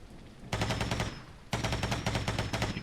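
Automatic weapon fire in a first-person shooter video game comes in two loud, rapid bursts of closely spaced shots, the second following a brief gap after the first.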